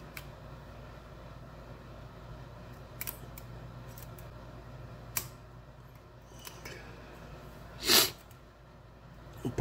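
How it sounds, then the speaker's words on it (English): Short, faint nasal sniffs come a few times in a quiet room, with one louder, sharper sniff near the end. "Pardon for all the sniffles"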